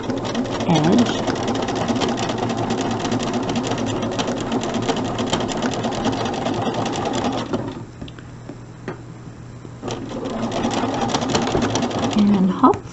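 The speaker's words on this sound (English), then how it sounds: "now I'm just going to sew my 1/4 inch seam right along that edge" Sewing machine stitching a quarter-inch seam, a loud rapid mechanical whirr with a pause midway before the motor runs again, with someone talking over it.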